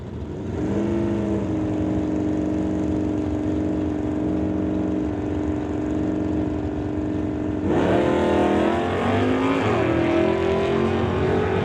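A GMC Jimmy and a Chevy Malibu drag racing on a strip hold a steady engine drone, then one rises sharply as they launch, with climbing revs from a second engine mixing in, loud and continuous.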